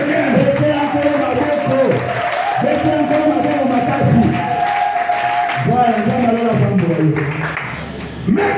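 A church congregation acclaims the Lord with sustained applause and cheering, a dense, loud crowd roar that goes on steadily throughout, with voices rising within it.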